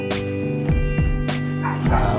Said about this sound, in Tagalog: Ang ingay ng aso mga tol, sumasabay yata sa pag-iinit.